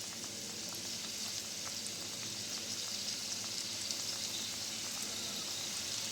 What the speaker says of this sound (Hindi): अब हम एक एक कर जो है इसको फ्राई बिल्कुल लो फ्लेम पे